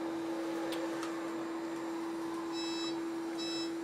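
A homemade Barracuda pulse induction metal detector gives faint, brief beeps from its small speaker as pliers pass back and forth over the coil. The beeps sit over a steady electronic hum and come in short clusters near the end.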